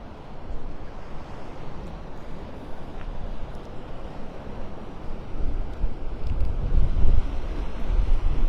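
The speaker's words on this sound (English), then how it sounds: "Walking into that wind." Wind buffets the microphone on a beach walk at Delnor-Wiggins in North Naples, with a steady rush of surf and gusts swelling louder toward the end.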